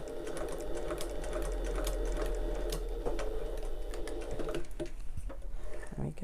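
Close, continuous sewing machine stitching bastes the folds of a fabric wallet, a steady even hum with light ticking that tapers off near the end.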